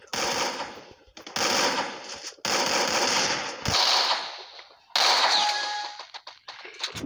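Rapid automatic gunfire from a shooting video game, loud bursts of machine-gun fire with metallic clangs, broken by short pauses, with no talk over it.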